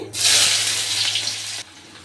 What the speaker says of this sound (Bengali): এবার কড়াইতে দিয়ে দিচ্ছি আমি সাদা তেল শাকের জন্য ফোড়নে দিচ্ছি কালো জিরে আর শুকনো লঙ্কা দিয়ে দিচ্ছি এখানে পেঁয়াজ কুচি